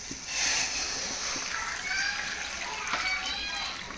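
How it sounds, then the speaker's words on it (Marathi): Hot water is poured into a steaming pot of curry cooking on the stove, giving a continuous rushing splash with faint background chatter. "आता त्यामध्ये आपण हे मी गरम पाणी केलेलं तो घालूयात।"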